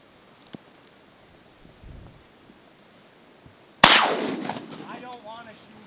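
A shotgun blast fired at a mallard during a North Dakota big-water duck hunt, one sharp loud shot cracking out of a quiet marsh background and trailing off into a long rolling echo.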